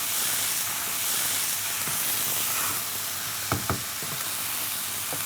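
Rice and soaked mashkalai dal fry and sizzle steadily in oil in a pot for khichuri, a constant close hiss with a few sharp scraping knocks from a spoon stirring near the end.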